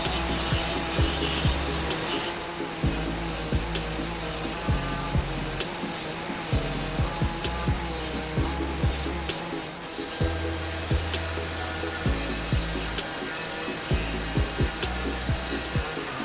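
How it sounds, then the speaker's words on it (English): An air saw cuts a notch into the frame of a 2017 Jeep Renegade, a continuous harsh buzz with a steady train of rapid strokes and small bursts of cutting, up close and without talking. "I'll be using an air saw to enlarge my hole, and basically I'm just going to cut a little notch right in this area here"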